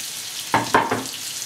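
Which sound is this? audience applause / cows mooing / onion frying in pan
onion frying in pan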